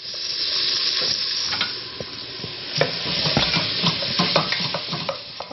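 Onions sweating in a pan as a base for pizza sauce, a steady close sizzle and hiss with a spoon scraping and stirring through it in irregular strokes, no talking.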